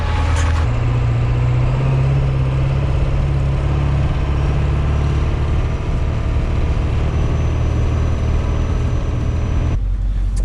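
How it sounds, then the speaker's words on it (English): A Ford OBS truck with a 7.3 diesel idles hot in the snow, its steady loud diesel rumble running unbroken for the whole stretch and cutting off abruptly near the end. "We're gonna let it hot idle for a little bit just to get it warmed up"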